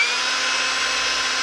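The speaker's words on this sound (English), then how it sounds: "let me drill these" A power drill bores through three stacked leather pieces for a knife scabbard, giving one steady, close, high-pitched whine that holds unbroken for the whole moment with no voices.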